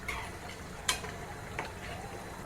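A spoon stirs traditional Maharashtrian Bhogi mixed-vegetable curry with coriander in a pan. The curry gives a soft continuous sizzle, broken by a few scraping clinks, one sharper knock near the middle, and no talking.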